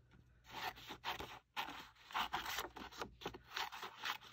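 Scissors snip and slide through glossy magazine paper in a series of close, quiet cuts with short pauses between strokes.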